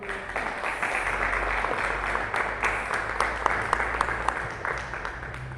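A congregation at a Portuguese-language church service claps in sustained applause, a thick layer of many hands with sharper individual claps cutting through, over a low steady hum.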